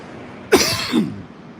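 A single sharp cough, close and fairly loud, followed by a brief rasping throat sound, with quiet before and after, outdoors at night by a police training center in San Jose, California.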